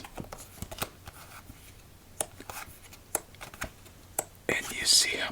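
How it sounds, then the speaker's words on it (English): A Bee playing card deck, a silver Metalluxe edition, is shuffled close up in a quiet room, giving a string of crisp riffling snaps and soft card taps, ending in a louder flurry of crackling riffles, with soft whispering throughout. "And you see how much I shuffle the cards too."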